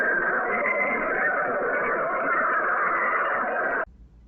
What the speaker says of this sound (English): those crazy Russians have dug so far that they've broken through into literal, actual hell, and these are the screams of the damned